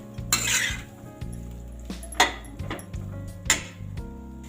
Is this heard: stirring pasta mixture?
yes